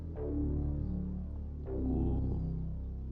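Sustained low bass line from an FL Studio beat, two long notes rolling with a soft throbbing hum, steady and moderately quiet with no voices.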